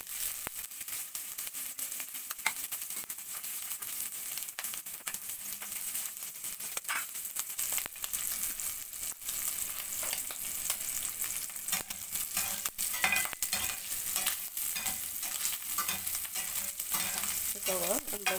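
Onions sizzle in rendered pork fat, a dense, even hiss of frying that runs steadily throughout, close up, with faint crackles and occasional light stirring scrapes and no voices.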